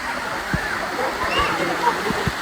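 Theme park waterfalls at Wonder World near Thanjavur rush in a broad, steady roar of falling water, with splashes and excited voices talking over it throughout.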